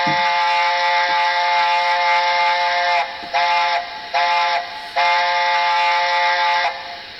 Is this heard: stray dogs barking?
no